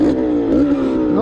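A KTM motorcycle engine, assembled by a 13-year-old, fires up and revs with rising and falling harmonic pitch sweeps, close and loud, while a voice talks over it.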